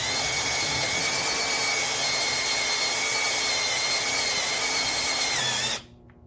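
A power drill runs steadily and loudly while drilling out rivets on a military HMMWV X-door, a continuous whining grind that cuts off abruptly near the end.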